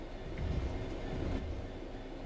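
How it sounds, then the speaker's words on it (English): A train in the Train Sim World 3 video game brakes toward a stop, giving a steady low rumble of rolling wheels and carriage noise at moderate level with no talk. "Bring this train to a complete stop by holding the brake control in the apply state"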